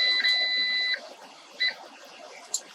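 An electronic dashboard buzzer beep in a 2021 Pleasure-Way Tofino camper van holds steady for about a second, followed by two short bleeps, clear and close with no talking.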